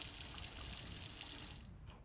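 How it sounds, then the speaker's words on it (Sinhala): Water splashes onto crops in a farming video game, a soft continuous gushing hiss like a tap pouring, steady for most of the moment before tapering off. "හරි වතුර දැම්මා"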